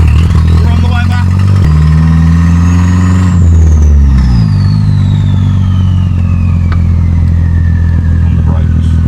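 A turbocharged 20-valve engine swapped into a Mk2 Volkswagen Scirocco drives loudly up close, revving and shifting pitch as it accelerates and eases off, with a whining turbo tone sweeping above the motor.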